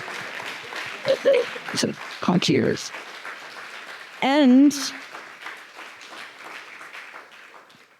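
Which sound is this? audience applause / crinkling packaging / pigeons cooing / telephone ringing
audience applause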